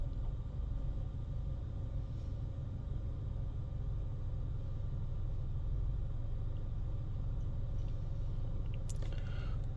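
A Vauxhall Astra 2.2 engine with a low fuel pressure fault runs as a steady, low rumble that stays even throughout, with no clear revving spikes.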